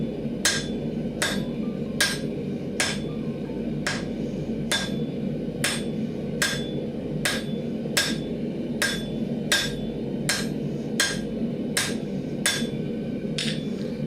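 A blacksmith hammers metal flat for S-hooks, with evenly spaced, loud ringing blows about once a second over a steady background roar.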